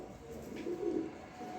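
A pigeon gives a single soft low coo, fairly faint, against quiet background hum.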